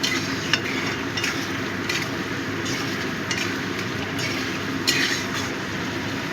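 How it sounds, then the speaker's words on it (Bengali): A spoon stirs potato and cauliflower curry with spices in a frying pan, giving a steady sizzle with scraping strokes and a few sharper clinks, close and continuous with no voices. "এবার দিয়ে দিচ্ছি গরম জল। ভালো করে কষিয়ে নেব।"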